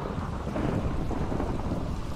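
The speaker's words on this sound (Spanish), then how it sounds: "Está tronando, chicos." A Minecraft storm holds a constant wash of rain and distant rumbling thunder, steady and dense with no distinct crack and no voices.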